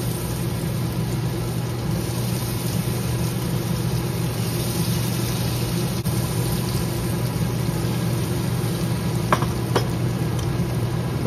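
Pea lentil fritters frying in hot oil in a wok, a steady close sizzle and bubbling hiss that runs without a break, with a few faint clicks near the end and no talk.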